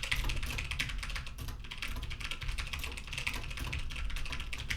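Computer keyboard typing picked up by a Synco Mic-D2 microphone, a rapid, continuous patter of close key clicks with a brief lull midway, no voices present.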